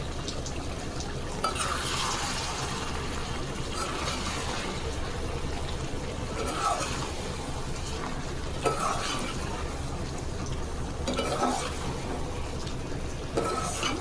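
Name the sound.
stirring chicken curry in a pan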